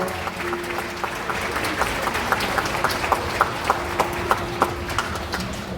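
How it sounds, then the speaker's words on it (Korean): A wedding hall crowd applauds steadily, with sharper claps landing in a regular rhythm as people clap in time. "2차 박수 부탁드리겠습니다."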